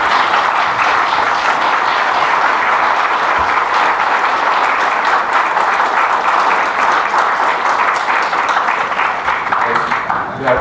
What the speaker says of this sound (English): how about a round of applause for these candidates?